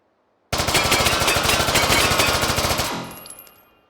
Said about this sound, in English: Another machine pistol, the SR2 Verisk, introduced in 1999, shooting a SP13 round as well,